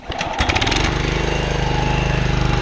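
Small John Deere JE75 lawn mower engine, still cold, sputtering to life and then running at a steady, rapid, loud chug close by, with no talk.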